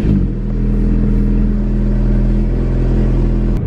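A Rolls Royce Wraith cold-starts and settles into a loud, steady engine drone, with deep rumbling tones holding throughout before a brief click near the end. The engine sounds close and dominant, with no voices.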